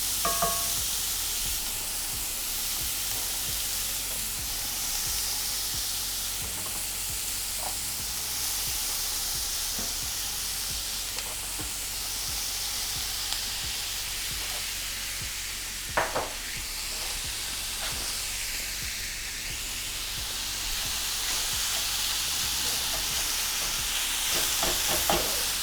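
Ground beef frying in a pan alongside sweating vegetables, a loud, steady sizzle and hiss with occasional scraping stirs of a wooden spoon, close up and without voices.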